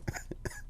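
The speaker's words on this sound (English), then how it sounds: "if I start laughing or something, I start coughing extremely" A few short coughs in quick succession, close and fairly quiet, from someone with sinus trouble.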